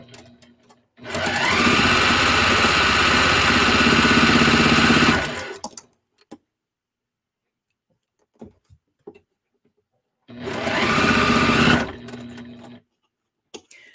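A sewing machine stitching quilt pieces runs in two steady, loud bursts, a long one of about five seconds and a shorter one later, separated by near silence with faint handling clicks.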